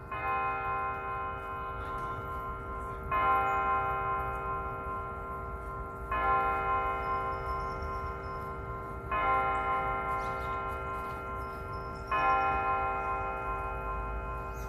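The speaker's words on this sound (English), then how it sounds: "here's the California Tower chiming to the 10" California Tower bells in Balboa Park, San Diego, ring out the 10 a.m. hour with a steady ringing tone, swelling into four evenly spaced louder strokes about three seconds apart over a sustained hum.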